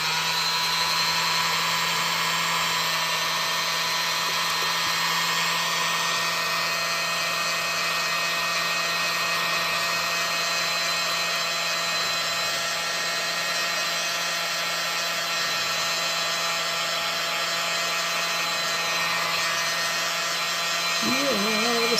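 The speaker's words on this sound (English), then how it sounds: "world's smallest mini blower. World's smallest blower." A tiny handheld mini blower, well used, runs continuously over a wet acrylic paint pour on turquoise coasters, giving a steady high-pitched whirring hum that holds at an even level throughout.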